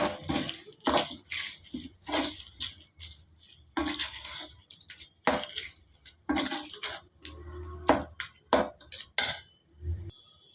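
Gongura thokku chutney being mixed by hand in a bowl: a string of short, close scraping and clinking strokes in irregular bursts, with brief pauses between them and no talk.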